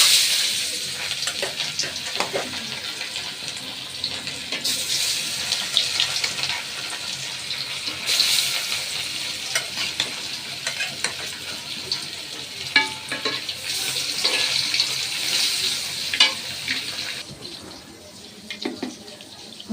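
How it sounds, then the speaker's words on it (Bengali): Fish seasoned with coriander powder and turmeric fries in a pan, giving a continuous close hiss of sizzling oil with occasional clinks and stirring noises over about twenty seconds. "মাছ ভাজি বসাচ্ছি।"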